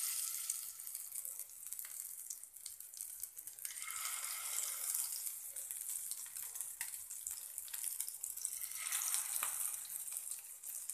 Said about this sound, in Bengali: এখন আমি তেলের মধ্যে একটা একটা করে বড়াগুলো দিয়ে দেবো